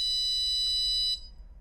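A ColorAlti 3 skydiving altimeter sounds its altitude alarm as one steady, high electronic tone that holds for just over a second, then cuts off, leaving a faint low background rumble.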